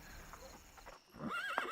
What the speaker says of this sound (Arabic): هذا الحصان لك يا نمر